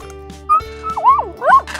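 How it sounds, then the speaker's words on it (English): A cartoon puppy gives a few short yips and whimpering barks over a steady, looping children's music bed, bright and close. "The numberling 2 is a dog."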